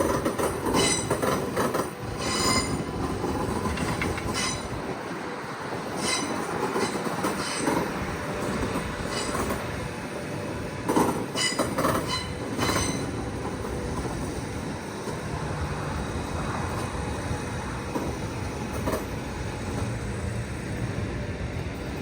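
A Sydney Metro train rolls along the track nearby, its rumble rising and falling, with rhythmic clicks over rail joints and occasional metallic squeals from the wheels.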